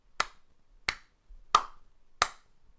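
Four sharp, evenly spaced sync claps ring out alone in a quiet room, each a crisp single hit with a short decay.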